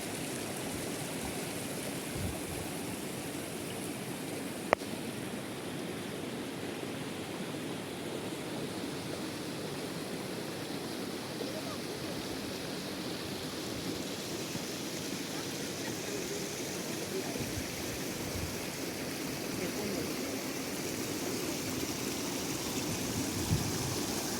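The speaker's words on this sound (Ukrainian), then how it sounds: "Річка Рось." Steady, dense rushing of water over rocks on the Ros River at Korsun fills the scene continuously, a broad even roar with occasional small splashes, close by.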